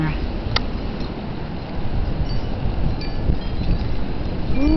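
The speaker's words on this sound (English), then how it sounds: "And the wind is blowing hard." Strong wind blows through a street buried in knee-deep snow during a heavy snowstorm, producing a continuous, loud rumbling buffet against the microphone.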